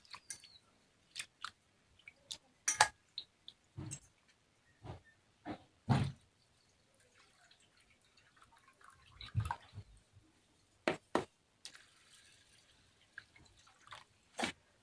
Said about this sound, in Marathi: डाळ सुद्धा मी दोन पाण्याने धुवून घेते